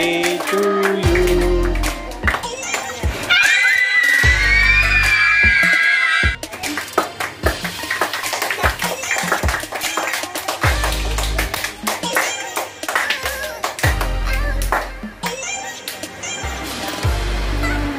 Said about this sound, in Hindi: ताली जोर से